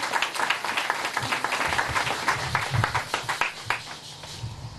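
Congregation at a wedding applauding and cheering as a pastor steps forward, dense steady clapping filling the room with scattered shouts throughout, fading slightly near the end.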